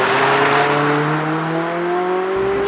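A 2014 Scion tC's 2.5-liter Toyota inline-four with a six-speed automatic, heard loud from inside the car as the engine blips and climbs smoothly in pitch during a rev-matched downshift.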